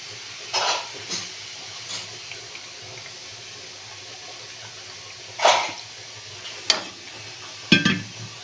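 Sautéed beetroot being stirred for halwa in a pan, with soft intermittent scrapes and clinks of the spoon against the pan over a faint low background, and a few sharper strokes toward the end.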